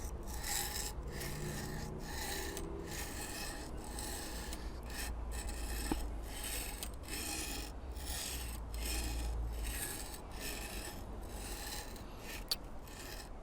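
A knife blade is drawn across a coarse stone on a TSProf K02 guided sharpener, making steady, rhythmic gritty scraping strokes about twice a second. The strokes are close and continuous, with no talking.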